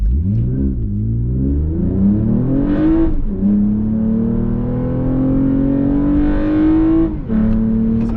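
A tuned Toyota Camry with a D3 Performance tune revs up hard and accelerates, pitch climbing steadily through gear shifts, loud and close with a brief dip near the end.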